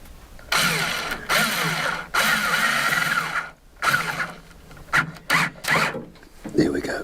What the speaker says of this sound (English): let's try and drill through the centre of the little block.